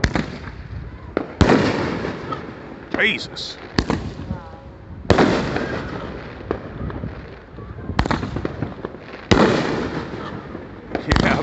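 Fourth of July fireworks bursting in the open air, several loud booming blasts spread across the moment, some close and sharp, with people exclaiming and talking between the explosions.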